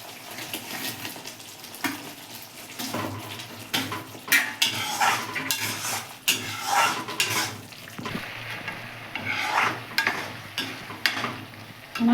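Paneer cubes tipped into a pan of spice masala and stirred, with clattering spoon and metal scraping, soft sizzling underneath and intermittent knocks against the pan, close and fairly loud, no talking.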